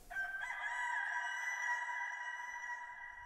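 A rooster crows once in a long, drawn-out call with a sharp start and a slow fade, close and clear against a quiet background.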